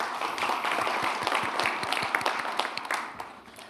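Audience applause at a capital market stabilization meeting in a hall, many hands clapping in a dense steady patter that swells and then tapers off, with no talk over it.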